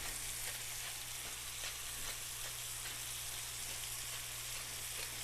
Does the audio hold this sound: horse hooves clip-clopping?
no